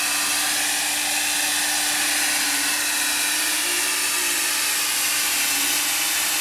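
A hair dryer blows steadily at close range onto tape on a Kawasaki motorcycle wheel, a continuous loud hiss with a faint motor hum, and nobody speaks.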